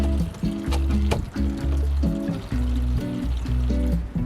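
Water pours steadily into a plastic seed-starting container to fill its bottom for tomato seedlings, a continuous, fairly loud liquid fill with shifting gurgling tones throughout.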